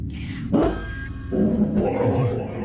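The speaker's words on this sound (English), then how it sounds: "The dog seems to bark and react to something that his owner can't see." A dog barks and yips in a couple of sharp bursts with some whimpering between them, heard fairly close. A person's voice runs underneath the whole time.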